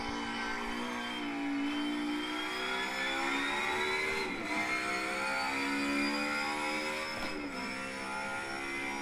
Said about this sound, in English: Like, listen to that thing, high rev,